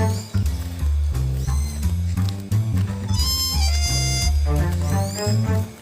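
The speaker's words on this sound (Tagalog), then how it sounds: "marinig ko na yung huni ng ibon" A bird calls outdoors in Bicol, Philippines, in high, sliding chirps that repeat over a loud, steady low droning background.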